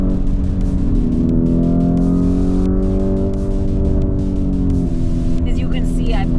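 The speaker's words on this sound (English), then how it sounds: "The crackles and pops of the overrun." A Lamborghini Urus Performante engine rumbles loudly and steadily with a dense low drone, and its exhaust runs on overrun while a voice talks over it throughout.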